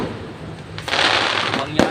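Firecrackers explode in a dense crackling burst that swells partway through and ends in a sharp final pop, loud and close, with faint voices in the background.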